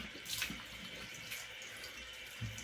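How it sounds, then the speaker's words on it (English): A faint stream of tap water runs steadily, with soft splashes into a basin. "getting a nice warm water rinse here."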